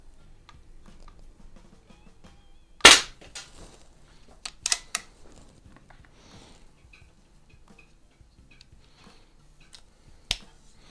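A Webley Nemesis CO2 pellet pistol shoots Beeman wadcutter pellets, with a sharp close crack followed by a few lighter clicks and a later single faint snap in a quiet setting.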